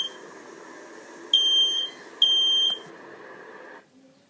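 A smoke or fire alarm at home sounds two loud, sustained electronic beeps, each about a second long with a short gap between, over a steady background hum that cuts out near the end.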